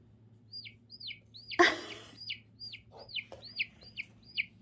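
A children's sound book plays a chick peeping, a series of about nine evenly spaced high chirps, interrupted once by a short loud burst of noise near the start, against a faint low hum.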